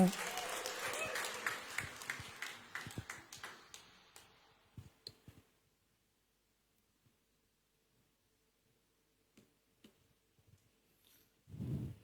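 Wedding guests applaud in a burst of clapping that fades out over several seconds, leaving scattered faint clicks and near silence before a brief louder sound at the end.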